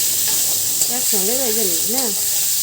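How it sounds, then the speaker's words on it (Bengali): Potatoes fry in hot oil in a home kitchen pan right after paneer, a steady close sizzle and hiss running throughout, with a brief voice-like tonal sound rising in the middle. "পনির ভাজা তো হয়ে গেল আর এখন এখানে আলু ভেজে রাখছে"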